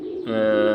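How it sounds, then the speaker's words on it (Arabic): A single short coo from a young Lahm and King cross pigeon, close and fairly loud, a low throaty tone lasting under a second. "جوز الحمام دول ولاد حمام لاحم وكينج"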